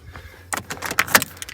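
A bunch of keys jangles close by at a car, a quick run of bright metallic clinks over faint low rumble, with no talking.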